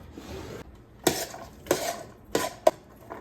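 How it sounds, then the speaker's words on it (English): A spoon clanks against a metal pot four times in a slow, uneven rhythm while stirring minced garlic, with faint scraping between the knocks. "And we're going to stir that up."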